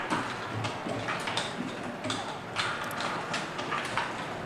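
Mechanical clattering and ticking from a marble race track's elevator lift, a steady run of small clicks and rattles with no voices over it.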